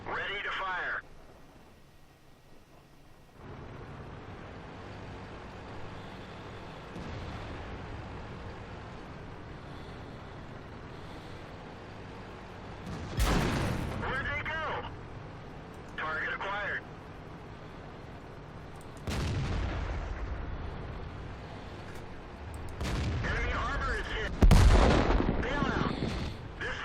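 Tank cannons fire in a World of Tanks battle with an AMX 50 100 on the Fjords map, loud broadband blasts at about 13, 19 and 25 seconds over steady engine rumble and game ambience, with some talk.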